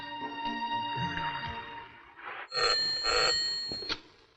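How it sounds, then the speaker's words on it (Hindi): A telephone rings in a scene from the Hindi film Barood: a bright, moderately loud ringing comes in bursts over background music in the second half, after which the ringing briefly stops. "किसका फोन है?"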